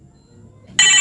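A telephone starts ringing near the end, a loud bright electronic ring bursting in after a stretch of quiet low room noise in a comedic Sundanese scene.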